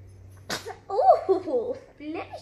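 A single sharp sneeze bursts out close by, followed by a child's vocalizing in a quiet room.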